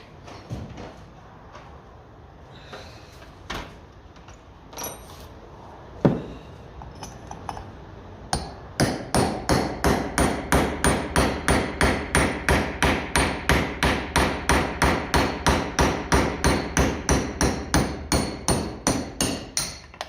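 A punch being hammered on a Lucas D3A4 distributor during an overhaul: scattered metallic taps at first, then a long fast run of sharp, evenly spaced ringing hammer blows, close and loud.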